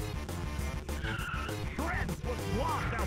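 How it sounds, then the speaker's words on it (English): A car crash in the racing video game Rock & Roll Racing: screeching skid and impact noises sweep over a constant layer of game music and engine drone, with squealing tones near the end. "Crazy crash."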